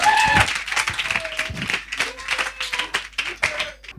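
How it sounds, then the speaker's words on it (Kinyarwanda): An audience claps for a comedian at a Gen-Z comedy show, loose rippling applause of scattered claps with a voice heard over it. "Umwongera amashyi"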